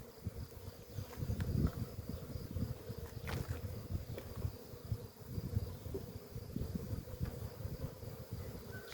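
Honeybees hum and buzz steadily during a hive inspection, a dense close swarm drone with occasional louder passes near the microphone and faint handling noises, no talking.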